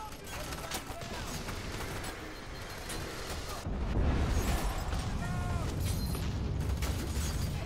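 A grenade goes off in the F.E.A.R. 3 video game as a loud, close, booming blast under a steady roar of combat noise and scattered gunfire.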